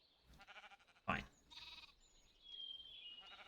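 Blocky Minecraft sheep bleat a few times in short bursts, with one louder bleat standing out over faint game ambience and soft background sounds.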